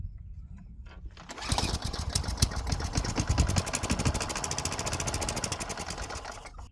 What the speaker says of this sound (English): I think it's just running off the ether and not off of the fuel that's in there